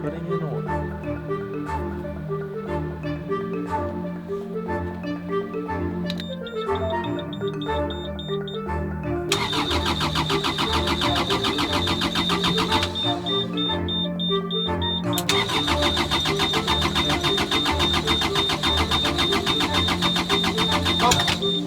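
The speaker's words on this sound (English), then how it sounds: "tried to start the engine for the first time" A boat engine cranks and fires for the first time after repairs, with fresh oil, coolant and a new battery, giving a steady loud mechanical rumble with rhythmic knocking, a shrill whine rising partway through, and voices talking over it.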